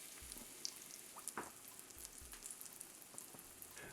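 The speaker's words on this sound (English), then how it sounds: "we're just going to let it fry on that bottom side for just a little bit" Danish aebleskiver batter fries on its bottom side in the pan, making a faint, steady sizzle with occasional soft pops and small crackles.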